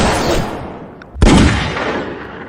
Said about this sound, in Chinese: 有狙击手，大家快趴下！